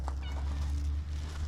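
An orange house cat gives a short meow at home, close and moderately loud, a single brief call over a low steady hum.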